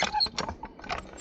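A high lift jack ratchets while pulling a fence post from the ground, giving a short run of close, rapid metallic clicks and clanks from the jack mechanism.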